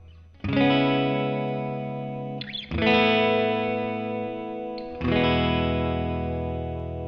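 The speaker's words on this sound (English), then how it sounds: "see how it sounds with these different amps." An electric guitar auditioned through different modelled amps strikes three successive sustained chords, each ringing and slowly fading before the next, with distortion and chorus colouring the tone, loud and up close with no voices.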